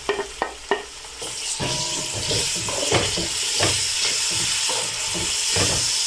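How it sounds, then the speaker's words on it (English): Tomatoes and grated garlic go into a hot pan, sizzling loudly and hissing steadily after a few sharp clacks of stirring at the start. "So I'll go ahead and add in the tomatoes with the grated garlic."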